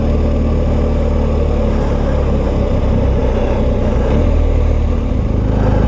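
Loud, continuous engine and wind roar from a BMW R1250GS motorcycle at riding speed, a dense steady drone with no pauses.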